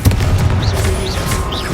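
An explosive spell cast in the video game Hogwarts Legacy: a deep booming blast that rolls on, with dull thuds and short whistling magic tones over a low rumbling game backdrop.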